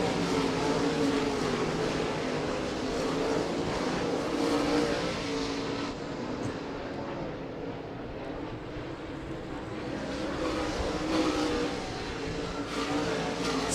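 Late model race cars roaring around the I-96 Speedway oval in a feature race, a loud continuous engine drone that swells and fades as the pack passes, with no voices.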